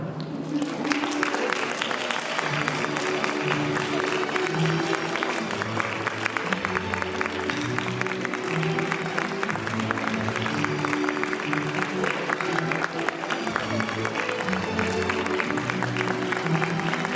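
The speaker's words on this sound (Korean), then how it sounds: "어머님들 잔을 향하여 입장하실 때에 뜨거운 박수로 맞이해 주시기 바랍니다" Wedding guests at a convention hall clap warmly as the mothers of both families enter for the candle lighting, sustained applause over steady background music.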